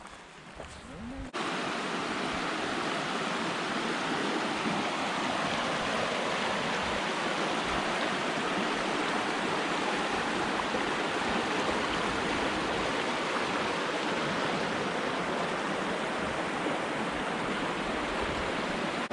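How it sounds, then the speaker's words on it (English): A waterfall on the Two Runs Nature Trail at Worlds End rushes in a steady, dense roar of falling water that fills the whole stretch evenly, loud and continuous, with no talking. "we're going to see a waterfall."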